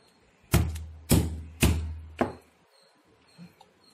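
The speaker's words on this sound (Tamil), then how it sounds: "கோவைக்காய் நசுக்கியாச்சே, பூண்டு நசுக்கிட்டேன்" Ivy gourd (tindora) being crushed for a Konkani poriyal, four heavy dull thuds at a steady pace, close and fairly loud, followed by a faint softer knock.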